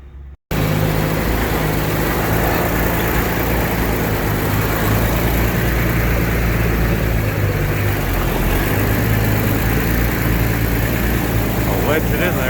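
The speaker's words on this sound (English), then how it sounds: "He's bringing another tractor and looking good." A tractor engine runs steadily with a continuous low rumble close by, loud and unbroken after a brief silent start, while farm equipment is packed into a shed.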